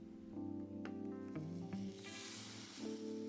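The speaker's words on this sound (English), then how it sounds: "If the sizzling is very strong and the vapor gushes out immediately" Steady hissing sizzle with a harmonic hum underneath, close and continuous for a few seconds, shifting slightly as steam escapes from a hair crimper pressed on wet doll hair.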